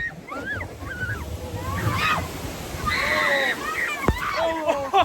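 Water sloshes and splashes at an Intamin Tasmanian River Rapids raft ride, a loose wash of surf-like spray under scattered voices and shrieks from people nearby.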